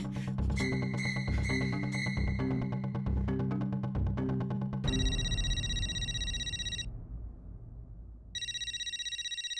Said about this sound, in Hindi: गोली का फोन